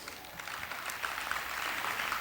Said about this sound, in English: Round of applause for adoption.